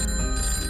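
A telephone rings with a sustained, bright metallic bell tone over a dense low background, loud and continuous through the short moment, with no voices over it.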